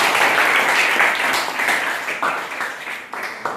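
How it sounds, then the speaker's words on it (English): A classroom of students applauds for a classmate's song during a tenth-class English presentation, a dense, steady wash of clapping from many hands that slowly thins and fades toward the end. "Give a big round of applause."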